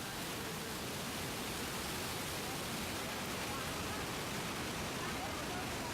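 The raging Jordan River rushes in a dense, steady roar of fast-flowing water that stays even and loud throughout with no break.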